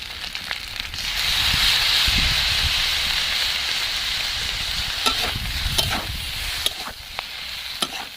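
Stir-fried noodles sizzle loudly in a hot pan as soy sauce goes in, a steady bright hiss of frying with scattered crackles and pops, no talk.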